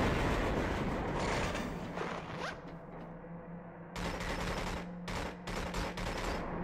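A machine gun fires in the game 007 Agent Under Fire, with bursts of rapid rattling shots broken by short pauses, loud and close with no voices.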